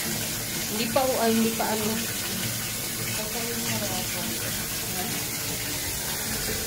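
Cold water runs from a tap, a steady close splashing flow with a brief louder gush early on and people talking over it.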